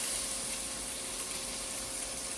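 Potatoes frying in a skillet for a corned beef hash, a steady, close, hissing sizzle with no distinct stirring knocks and no talking.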